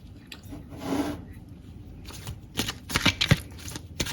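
Tarot cards are shuffled and drawn in a quiet room, giving soft papery riffling and rubbing with a few sharper flicks and taps near the end, close and fairly faint, with no talk.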